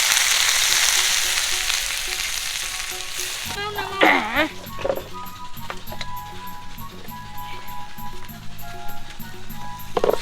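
Sidol, a fermented fish cake, fries in a pan with a steady sizzle, then stirring and scraping sounds clatter over the hiss, with faint squeaky tones in the background.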